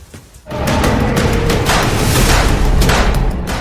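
Gunfire from a police officer's weapon: a dense, loud, booming blast that starts suddenly and rolls on continuously, close and harsh, with no talk.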